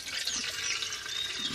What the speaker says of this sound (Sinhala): මුට්ටියට වතුර වක් කරන්න